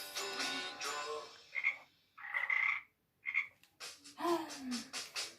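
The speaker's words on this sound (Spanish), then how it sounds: "Una rana." A frog croaks in a series of short, bright, rasping calls separated by silent gaps, close and clear, with no voices present.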